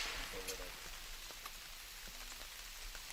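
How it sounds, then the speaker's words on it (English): Rain falling steadily at an outdoor para trap shooting competition, a soft, diffuse hiss of drops on surfaces with faint scattered taps, fairly quiet throughout. "And the rain is starting to really come down."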